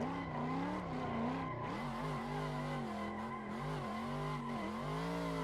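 Car drifting with a modded drift car in Assetto Corsa, tires squealing continuously over a steady revving engine, the pitch sweeping up and down as the car slides, loud and close with no talk.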